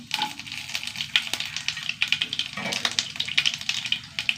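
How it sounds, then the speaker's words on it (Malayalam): Mustard seeds hit hot oil and sizzle, with dense, rapid crackling and popping that carries on steadily, close and lively, with no voices. "എണ്ണ ചൂടായി കുറച്ച് കടുക് ഇട്ട് കൊടുക്കട്ടാ"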